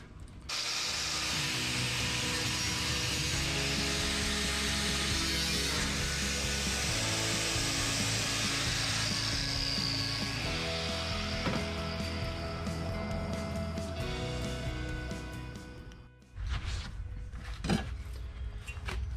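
A power tool cuts sheet metal patch pieces for rust repair on a BJ40 Land Cruiser's front guards, a steady loud whining grind running almost unbroken before cutting off, followed by a few clanks and handling noises.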